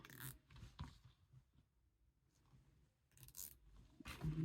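Several short ratcheting zips, each a quick rasping burst close to the microphone, separated by brief pauses.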